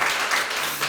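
A crowd at a church prayer service applauds, a dense wash of many hands clapping together, steady and sustained for a short moment.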